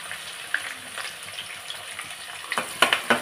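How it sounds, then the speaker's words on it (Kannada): Mustard seeds, cumin and chopped onion frying in oil in a pan, a soft steady sizzle with scattered crackles and pops that sharpen and cluster toward the end. "ಇದೊಂದು ಸ್ವಲ್ಪ ಫ್ರೈ ಮಾಡ್ಕೊಳ್ಳಿ."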